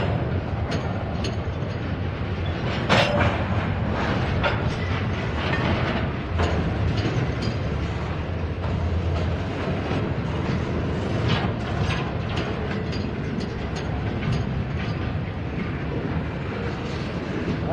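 A long freight train of double-stack cars rolls steadily past a rail yard on Bevier Street, with continuous wheel rumble, clanking couplers and rhythmic metallic rattles and squeals lasting throughout, fairly close and loud.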